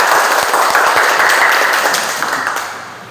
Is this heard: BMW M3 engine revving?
no